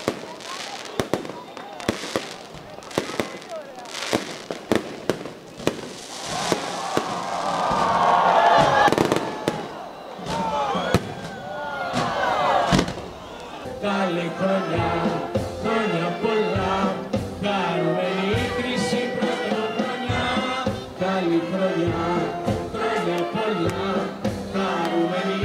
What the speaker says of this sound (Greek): με τη νύχτα να γίνεται μέρα από τα πυροτεχνήματα στην πλατεία Ελευθερίας, η οποία πλημμυρίζει από κόσμο